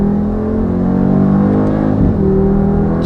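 The new Mercedes G-wagen's engine pulls hard from inside the cabin, a loud sustained droning growl whose pitch climbs, dips briefly at a gear change, then rises again, with no speech.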